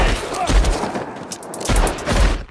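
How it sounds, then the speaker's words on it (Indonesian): Gunshots ring out in a cowboy film shootout, a rapid volley of loud cracks with two heavy booming bursts, the second fitting a dynamite blast, all close and dense over a short span. "Salah satunya bahkan membawa dinamit, makanya pas ditembak tadi meledak."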